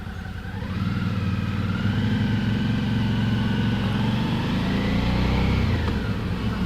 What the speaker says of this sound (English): No, nice tone to the engine.